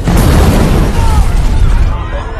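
An explosion in an action film scene hits as a loud, rumbling blast that decays over about two seconds, with a voice speaking over it.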